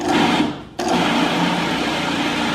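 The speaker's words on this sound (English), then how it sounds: "I had my food processor on wrong" A food processor whirring loudly and steadily while blending smoked paprika and mustard into a vegan meatloaf mixture, with a brief dip before the motor surges back to a constant buzzing drone.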